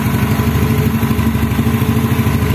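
Yamaha Mio motorcycle engine idling after a start with improvised ignition wiring, a steady close rapid putter with a slight mechanical clatter, loud and alone.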